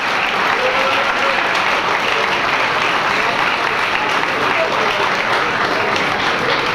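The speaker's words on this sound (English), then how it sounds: "So I'd like to give one last round of applause for all of these people being up here tonight." An audience at a high school Hall of Fame ceremony claps in sustained, dense applause, loud and even throughout without letting up.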